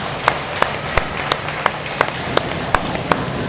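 Sharp single claps at a steady pace of roughly two per second, close by, from someone applauding at a youth hockey game between the Wade Warriors and the White Caps, with arena noise underneath.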